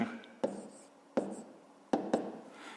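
Pencil or pen writing numbers on paper during a fifth-grade maths exercise, with a few short scratching strokes separated by pauses, close and fairly quiet.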